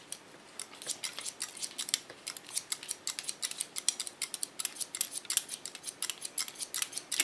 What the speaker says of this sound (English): take the hair up, and create myself the line I want to cut